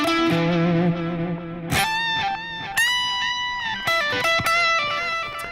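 Electric guitar played through a slapback delay: distorted chords and single notes ring out, each attack followed by a quick echoing repeat, loud and up front with no voices.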